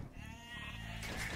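Sheep bleating in the strategy game Age of Empires II, a short wavering call under a low steady game hum.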